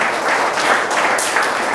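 A church congregation in Palangkaraya applauds and cheers for God, a dense wash of close clapping with voices mixed in.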